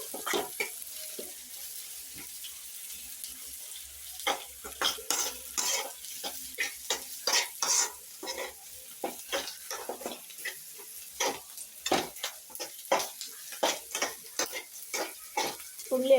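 Onions sauté in a pan for a Kerala-style soya chunks fry, with a spoon scraping and stirring in quick irregular strokes over a soft background sizzle, close and fairly quiet.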